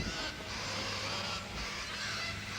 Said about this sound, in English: It plays back a starling's alarm call, amplified 100 times.